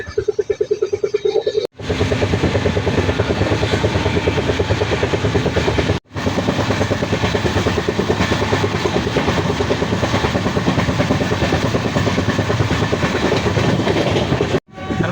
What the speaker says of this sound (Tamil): ட்ரெயின் போயிட்டே இருக்குது